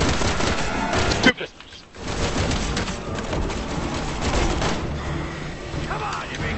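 Dual pistols fire in Resident Evil 6, a rapid string of loud, punchy shots that break briefly for a dull pause, then resume as a busy, continuous barrage of in-game gunfire.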